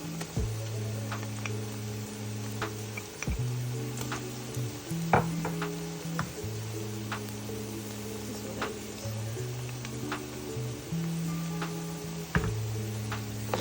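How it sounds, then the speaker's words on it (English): Tomato paste frying in a pot with chopped onions and a bay leaf for Ghanaian jollof rice, a soft continuous sizzle broken by repeated scraping stirs and occasional utensil taps against the pot. "Fry this until it darkens a little bit."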